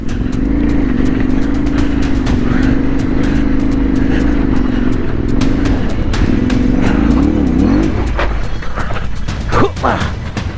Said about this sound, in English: I can feel that lack of traction, just the wheels spinning up there.